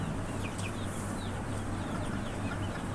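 Native deshi chickens on an earthen floor cluck and chirp intermittently at moderate distance over a constant hum of farm noise.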